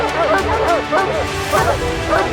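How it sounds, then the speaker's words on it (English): Hunting hounds bay and bark repeatedly while tracking a mountain lion through wilderness, a pack of loud, close yelping calls in an uneven rhythm over rough outdoor background. "forcing hunters to follow the sound of barking through the wilderness"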